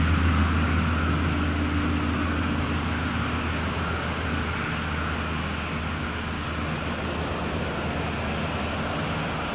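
An Airbus 319 airliner touching down at Toronto Pearson airport produces a steady, broad jet roar with a deep low rumble, constant and moderately loud throughout, with no voices.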